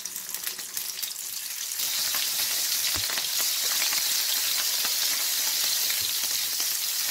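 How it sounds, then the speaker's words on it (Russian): Shrimp sizzle and fry in a hot pan for a bouillabaisse fish soup. The crackling hiss is steady and loud and carries on throughout, with scattered pops and no voices. "И отправляем креветки обжариваться."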